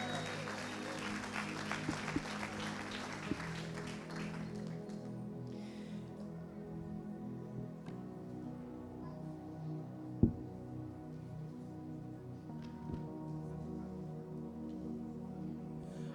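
A church congregation applauding, a steady spread of clapping in the first few seconds that soon dies back, leaving quiet room tone with a low organ-like hum and a sharp knock partway through.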